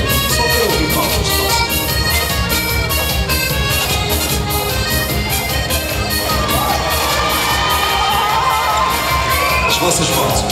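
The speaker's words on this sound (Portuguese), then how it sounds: "Pedro, só para ouvir palmas." A crowd at a live Portuguese popular music concert in Gonesse claps and cheers loudly over the ongoing band music, with shouting voices throughout.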